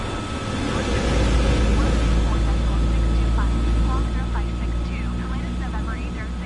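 Hiller UH-12B helicopter engine running in Microsoft Flight Simulator 2024: a loud, steady drone with a deep low rumble and a constant thin whine, unbroken throughout, with faint voice-like sounds over it.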